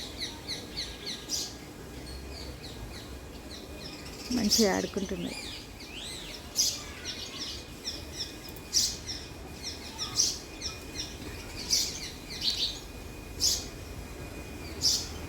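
A flock of about ten small birds playing together around a house in the morning, repeated bright chirps near and far, with a person speaking softly over them.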